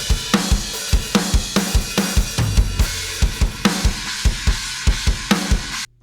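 A drum groove without EQ plays alone, steady kick and snare hits repeating in a regular rhythm with bright cymbal wash, stopping abruptly at the end.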